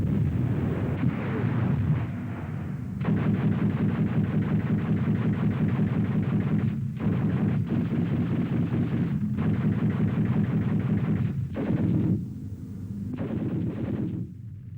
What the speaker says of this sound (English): the principal defense for German forces came from large concentration of flak weapons